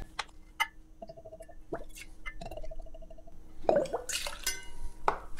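White rum gurgling as it is poured from a bottle into a measure for a cocktail, with soft glassy liquid bursts and drips among light clinks of glassware, close and moderately quiet.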